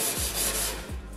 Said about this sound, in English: go over it with the Scotch-Brite and sandpaper. It's 240 here.